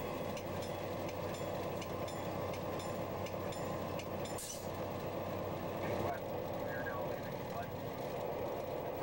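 A CN freight train rolls along the track across the Lower Mainland, near small bridges, giving a steady loud rumble with rail clatter and a brief high squeal partway through.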